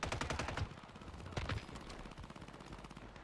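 Rapid automatic gunfire from a FAMAS in a Rebirth Island video game match, dense repeated bursts that crackle continuously with a few louder shots standing out, no talk.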